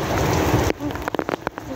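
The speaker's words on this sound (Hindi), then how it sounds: "दोस्तों बारिश बहुत तेज हो रही है।" A dense wash of heavy rain falls for under a second, then cuts to scattered, uneven drips and taps on a surface.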